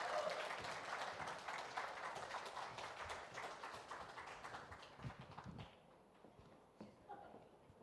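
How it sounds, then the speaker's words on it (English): A crowd applauding steadily, dense clapping that fades out toward the end, leaving a few scattered claps. "Huge round of applause for them."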